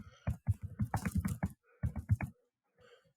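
Someone types a full name on a computer keyboard: a quick run of crisp key clicks, a short pause, then a second burst of keystrokes, close and distinct with no talk.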